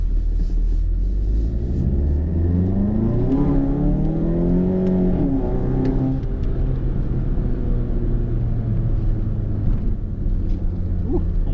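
A VW MK7 GTI with a Cobb Stage 3 tune and a catless downpipe exhaust accelerates on a rough road, its loud, close engine note climbing in pitch through the revs before settling into a steady, droning rumble.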